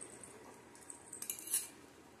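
A spoon clinks and scrapes against a bowl while a small child is fed at home, a few faint, light metallic taps clustered near the end, quiet and close with no talking.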